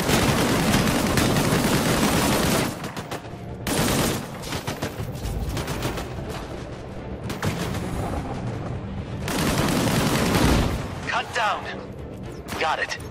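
Sustained heavy gunfire in the video game Disintegration rolls in dense volleys with intermittent louder bursts, close and loud, while voices speak over the battle.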